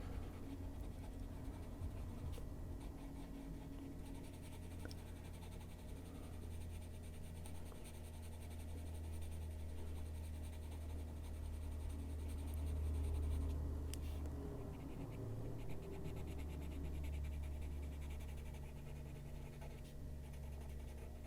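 A coloring pen outlines shapes on paper, making soft, continuous scratching strokes close by over a quiet background hum, with no talk.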